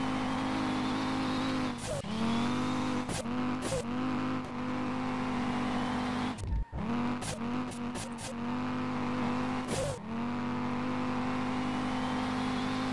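An Audi drifting in the video game SLRR, a steady droning engine note broken by repeated gear shifts and short tire squeals, loud and continuous.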